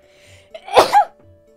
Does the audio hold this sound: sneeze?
yes